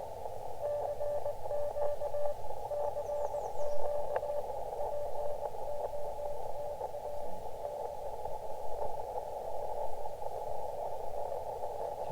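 A faint Morse code (CW) tone beeping in short and long dashes through a band of radio hiss, the signal breaking up and fading away.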